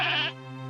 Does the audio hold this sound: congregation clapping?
no